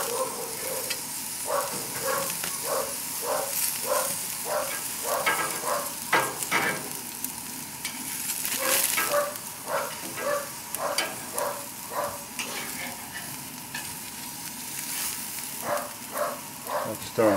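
Zucchini and other vegetables sizzle on a hot grill with a steady crackle, while rhythmic tapping of a utensil and occasional scraping sounds ring out close by.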